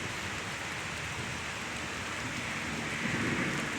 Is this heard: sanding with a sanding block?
no